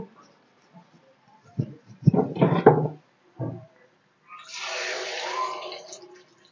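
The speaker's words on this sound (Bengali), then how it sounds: "এবার আমি এর ভিতরে একটু উষ্ণ গরম জল দিয়ে দেব।" Warm water is poured into a simmering potato and pointed gourd curry with soya chunks, a soft, steady splashing pour lasting about two seconds, preceded by a few moments of talking.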